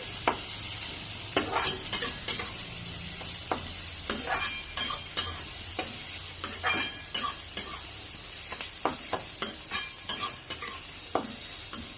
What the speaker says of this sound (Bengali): পেঁয়াজ একটু ভালো করে নাড়িয়ে নিচ্ছি।